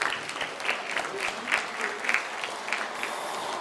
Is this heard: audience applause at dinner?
yes